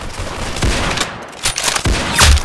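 Video game gunfire rings out in several sharp, loud bursts and single shots spread across a couple of seconds, close and punchy, with no voices.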